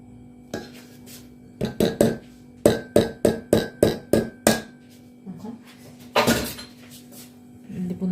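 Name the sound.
mixing eggs and flour in a bowl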